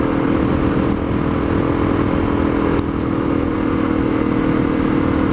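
A Honda CRF250L dual-sport motorcycle cruises at around 40 mph, its engine a steady close drone blended with wind rush, constant and loud throughout.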